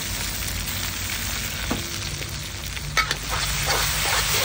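Onion and chopped tomato masala frying and being stirred in a pan, a continuous close sizzle with a few clinks and scrapes of the spoon, no talk.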